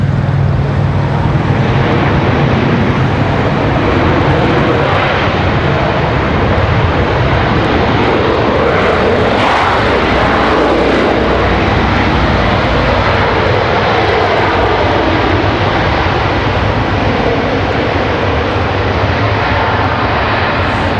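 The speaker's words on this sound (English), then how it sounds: "Always an elegant touchdown for the A340." An Airbus A340 airliner touches down at Washington Dulles, a loud, sustained jet engine roar with broadband rushing noise swelling midway and holding steady throughout.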